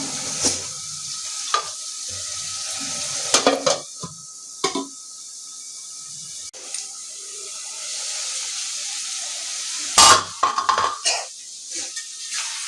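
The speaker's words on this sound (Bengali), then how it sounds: "এখন আমি ঢাকনা দিয়ে ঢেকে রাখবো মশলা মাংসটাকে কষানোর জন্য" Chicken with spices sizzles and fries in a covered pot, a steady bright hiss broken by occasional clinks and scrapes of a lid or spoon against the metal.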